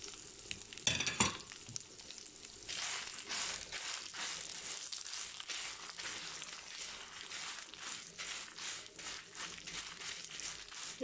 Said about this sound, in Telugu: ఇప్పుడు మనము ఎండుమిరపకాయలు దీంట్లో వేసుకుందాము.